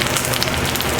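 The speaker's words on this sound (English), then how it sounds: "I'm going to brown the bottoms of these and then I'll flip them over and I'll just saute them for maybe 10 minutes" Brussels sprouts sizzle while browning in a hot pan, a dense, even crackle with no pauses and no voices.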